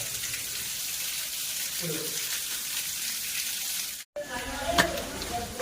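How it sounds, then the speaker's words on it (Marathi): A hot water spring flows continuously in a steady watery hiss, with a brief cut and some nearby splashing toward the end. "हा पाहू शकता हो, उन्हाळ्यावरचा गरम पाण्याचा झरा"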